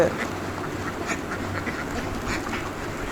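Penned ducks quack repeatedly in short, scattered bursts at feeding time over a steady low background hum, several birds calling close by.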